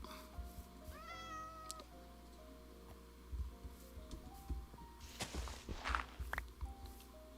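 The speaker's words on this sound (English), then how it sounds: "Oh, that's a pig. I thought that was a ginger cat." A pig in the video game Minecraft gives a short, whiny, cat-like call, followed by scattered soft footstep thuds and game clicks at low volume.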